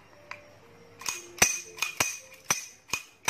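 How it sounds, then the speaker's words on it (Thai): The steel slide of a Glock 19 blank gun is racked repeatedly, giving about eight sharp metallic clacks, metal striking metal in an uneven rhythm close by. "ฟังเสียงสไลด์ครับเหล็กกระทบเหล็กเสียงสไลด์นี่เสียงดังมาก"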